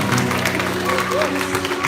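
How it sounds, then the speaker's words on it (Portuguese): A church congregation applauding during a live worship service, a continuous crowd clapping under a voice and a sustained tonal background, loud and roomy. "Dê uma salva de palmas ao Senhor"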